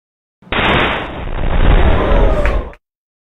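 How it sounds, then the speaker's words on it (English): A full-size inflatable space station habitat module bursts under pressure in a test, giving one sudden loud blast followed by a roaring rush that lasts about two seconds and then cuts off. "The goal was to see how much pressure the full-size structure could take before it bursts."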